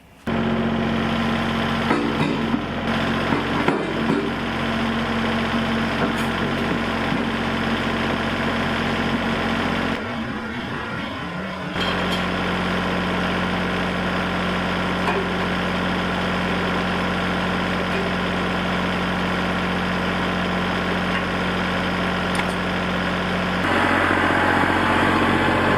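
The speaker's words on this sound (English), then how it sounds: "So let's get the tractor fired up" A tractor engine idles steadily with a low, constant throb and mechanical hum, briefly dipping around the middle before resuming its even running.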